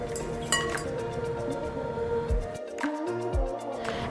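A spoon clinks against a glass or bowl while stirring sugar into hot water, with light scattered taps and soft swirling, close and quiet.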